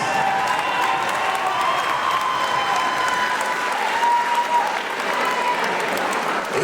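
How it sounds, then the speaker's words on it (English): A crowd applauds steadily, dense clapping filling the space with a few faint cheers mixed in. "Please give these warriors a round of applause."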